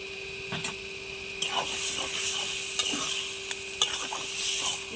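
Beetroot and sugar sautéing in a pan give off a low sizzle, broken by intermittent scraping and tapping of a spatula stirring, over a steady background hum.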